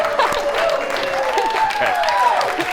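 An audience claps in a room, a steady brief burst of applause throughout, with a voice talking faintly over it.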